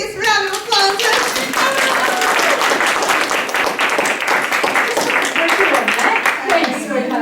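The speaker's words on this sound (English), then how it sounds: "please give her the biggest round of applause" An indoor audience at a business event claps and cheers warmly for a woman, producing dense, sustained applause that stays loud for several seconds.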